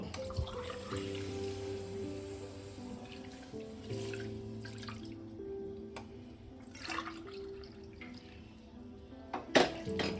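Two cups of milk poured into a pan for semolina rasmalai, a soft continuous liquid stream and splash heard close and fairly quietly, with background music and a brief clatter near the end.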